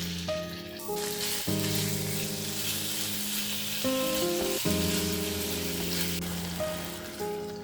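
Steady, close sizzling of chicken fillet frying in hot oil in a pan, a continuous crackle with soft background music underneath.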